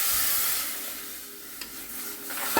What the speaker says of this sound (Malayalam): ഇപ്പം പുളിവെള്ളം ഒഴിക്കുവാണേ.